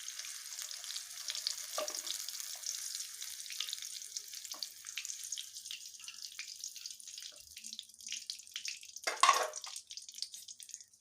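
A continuous bubbling sizzle of small fish deep frying in hot oil, soft and steady, with a brief clink and a louder splashy burst near the end.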